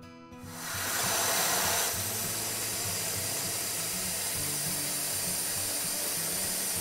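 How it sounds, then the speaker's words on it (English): A StoneAge BTC-100 boiler tube cleaner feeds its hose with a steady pneumatic hiss and mechanical whir, rising at the start and then holding even and close throughout, with no talking. "the third function that I haven't talked about yet is feeding of the hose"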